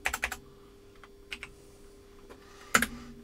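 Clicky keyboard typing in short bursts: a quick cluster of keystrokes, a few isolated taps, then a sharp final flurry, close and fairly quiet.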